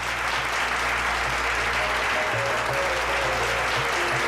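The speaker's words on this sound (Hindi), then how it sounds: "राधा के लिए जोरदार तालियां।" Loud, continuous applause from a studio audience on a DD Urdu singing show, given for a female singer, a thick wash of clapping with faint tonal sounds underneath.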